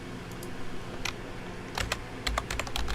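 Computer keyboard typing, with a few scattered keystrokes at first and then quicker bursts of clicky taps close to the mic over a faint room hum.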